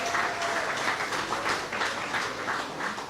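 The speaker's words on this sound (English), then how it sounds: "And yes, a round of applause." An audience applauds during a televised talk program, a steady wash of many clapping hands filling the whole stretch at moderate distance.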